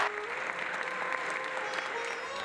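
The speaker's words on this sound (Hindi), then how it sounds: "जितनी ताली बजा सको बजाओ" A large audience applauds steadily and continuously at a charity event in India, dense even clapping that holds at a constant level throughout without breaks.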